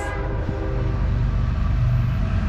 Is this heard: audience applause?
no